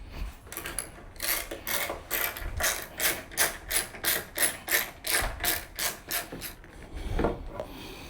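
A ratchet wrench loosens a 13mm bolt on the air filter cover of a Chrysler 300, a rapid series of about a dozen sharp, evenly spaced clicking strokes, close up with no talking.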